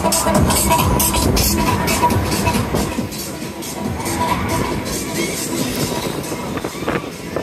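An amusement park ride train at Fantasy Kingdom in Ashulia runs steadily on its rails with a continuous rumbling clatter, with faint voices in the background.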